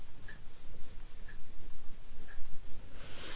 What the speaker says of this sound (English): let's go at it with the bone folder one more time